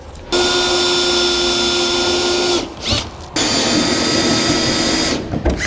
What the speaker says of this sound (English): we're gonna take our drill bit or step bit and we're gonna enlarge our holes to 21/32